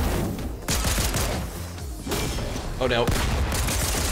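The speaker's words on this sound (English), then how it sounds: "He shot me directly with a shotgun and I did not die." Shotgun blasts in the Fortnite battle royale game, sharp booming reports scattered among other gunfire and game effects, with a player talking over the action.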